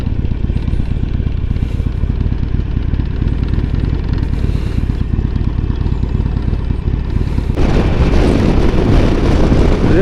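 A Harley-Davidson Sportster motorcycle ridden at highway speed on the way to a Harley event, its engine a steady loud drone mixed with rushing wind, rising in intensity near the end.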